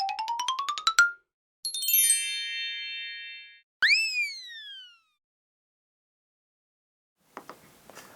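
The Sega logo jingle from the Captain America and The Avengers video game plays as a bright sequence of rising tones, a sustained chime and a swooping ding, then a short noisy burst after a pause.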